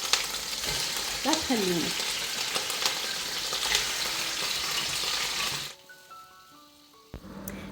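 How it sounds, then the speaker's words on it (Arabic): Chicken pieces frying in a pan give off a dense, steady sizzle for several seconds, with some stirring clatter and a brief voice. The sound then drops off abruptly, leaving faint tonal beeps. "بين ما يتقلى الدجاج كل زين"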